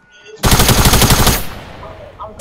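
Assault rifle fire in a video game rips out as one loud, close burst of rapid shots lasting about a second, then trails off into a fading echo.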